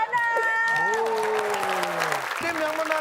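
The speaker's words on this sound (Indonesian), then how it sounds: "Kasih tepuk tangan buat Dana." Studio audience on an Indonesian TV comedy game show clapping steadily, with people speaking and calling out over the applause.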